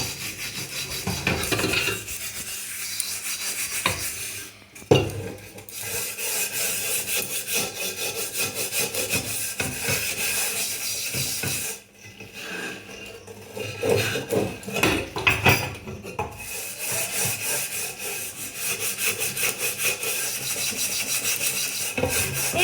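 A karahi wok is scrubbed hard during washing, a continuous rasping, rhythmic rubbing of an abrasive pad on metal, close and loud, with brief pauses between bursts of strokes.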